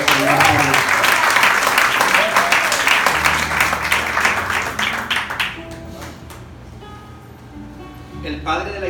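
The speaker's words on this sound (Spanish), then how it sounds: "Denle un aplauso al Señor por eso." A church congregation bursts into loud, sustained applause that fades after several seconds, with a preacher speaking over and after the clapping.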